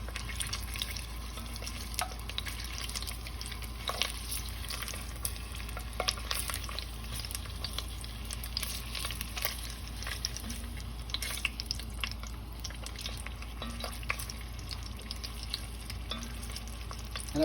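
Halved sausages brown in a hot pan, a quiet continuous sizzle with scattered crackles and pops and occasional soft stirring scrapes, steady throughout with no talking.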